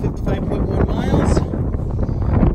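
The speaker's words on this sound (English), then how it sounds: "It's a beautiful windy day today." Wind buffets the microphone on a hike along the Ice Age Trail in a low, rumbling roar that rises and falls, with a voice faintly mixed in underneath.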